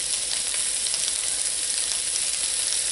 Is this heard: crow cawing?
no